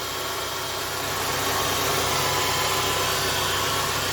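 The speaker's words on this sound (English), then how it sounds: "What a wonderful, wonderful little engine." A small car engine idles steadily at close range, a constant humming rumble with a broad hiss and no speech.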